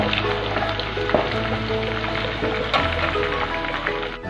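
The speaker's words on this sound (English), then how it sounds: "I am frying some potatoes and 1 onion also." Potatoes and an onion fry in hot oil with a dense, steady sizzle and occasional crackles and pops, loud and close.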